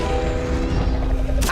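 Confringo fire spell blast in Hogwarts Legacy, a loud dense rumbling burst with a low humming tone, ending in a brief sharp crackle.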